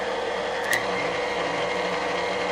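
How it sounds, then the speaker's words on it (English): Stand mixer with a whisk attachment running on low, combining meringue powder for cookie icing, a steady mechanical whir close by with one brief clink against the bowl, no talking. "we're going to mix the meringue powder in, and we're going to use the whisk attachment first"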